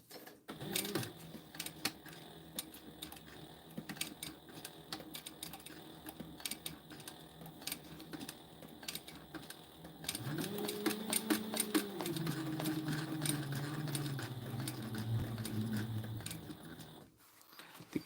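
A sewing machine stitching a repair on a drone EDC backpack, rapid mechanical clatter that starts and stops, then a longer steady whirring run, close and fairly quiet.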